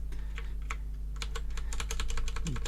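Computer keyboard keys clatter in quick, uneven bursts of typing, close and crisp, with short pauses between runs of keystrokes over a steady electrical hum.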